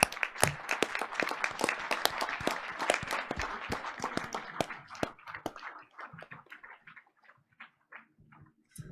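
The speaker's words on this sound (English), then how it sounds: "Let's give them one more round of applause, please." An audience at a board of education meeting claps for the superintendent and cabinet, dense sharp applause for about five seconds that thins into scattered, fading claps.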